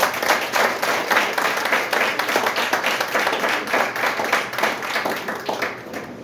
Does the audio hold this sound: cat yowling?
no